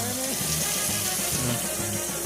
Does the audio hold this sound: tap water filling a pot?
yes